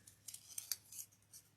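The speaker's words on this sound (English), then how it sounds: "And then I'm going to cut the corner just like this." Scissors snip through the corner of a stack of folded book pages: several soft, crisp cuts in close succession, quiet and close with no talking.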